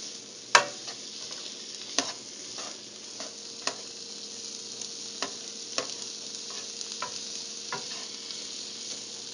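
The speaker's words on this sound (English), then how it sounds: "And just stir those in with the onions." Spices for Rogan Josh curry are stirred into onions frying in a pan, with a steady sizzle and scattered spoon taps and scrapes, the first one loud.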